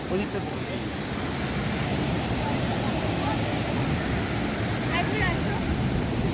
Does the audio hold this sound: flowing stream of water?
yes